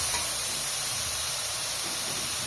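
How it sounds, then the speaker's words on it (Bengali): Food frying with salt in a pan at home: a dense, steady, loud sizzling hiss that stays constant throughout, with no talk over it. "লবণ দিয়ে ভেজে নিচ্ছে আম্মু।"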